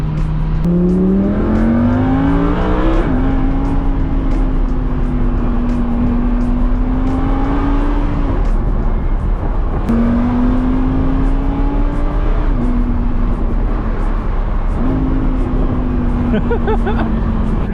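A loud Lamborghini Huracan engine revs hard and accelerates through several gear shifts, the pitch climbing and dropping repeatedly, heard up close from inside the car.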